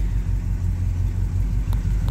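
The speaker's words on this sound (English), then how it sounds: "The car does have dual exhaust." A 1972 Chevrolet Monte Carlo SS with a 350 V8, 350 transmission, MSD ignition and dual exhaust runs steadily, its deep exhaust rumble loud and close with no one speaking.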